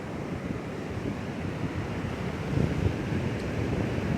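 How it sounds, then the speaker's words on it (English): Pacific Ocean waves wash up on a beach at Rosarito in a steady, broadband rush with a slight surge near the end, roughened by wind buffeting the microphone, with no voices. "The water is washing up against this."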